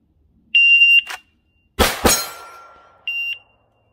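A PI shot timer sounds a loud, sharp electronic start beep, then a gunshot with ringing decay at the range, and then a second shorter beep, all close and clear with no talking.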